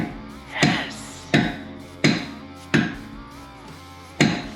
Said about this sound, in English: I was just hitting it with this dead blow hammer here